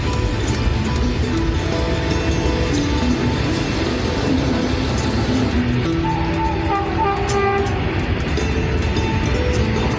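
Very long freight train called Rudrastra rolling along rails, a loud, steady rumble of wagons with clattering wheels and tonal horn-like squeals partway through.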